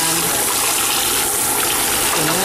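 Steady running water, like a tap rinsing a stirring stick coated in screen-printing emulsion, rushing continuously and fairly loud with no talk over it.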